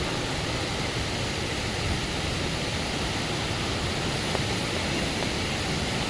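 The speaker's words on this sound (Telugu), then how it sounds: "ఇంకా ఇది దేవకొండ వాటర్ ఫాల్స్." Water rushes at Devkund waterfall in Maharashtra, a steady, dense roar that fills the whole stretch without pause or change.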